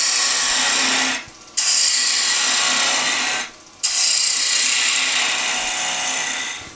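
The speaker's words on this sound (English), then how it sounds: "So I'm going to go to a bowl gouge now to rough out." A bowl gouge roughs down a wooden finial blank spinning on a lathe, a steady loud hissing cut that drops away briefly twice as the tool lifts off the wood.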